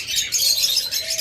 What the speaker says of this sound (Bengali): যেটা হলো ইয়েলো কলার পাখি, ইয়েলো কলার লাভবার্ড।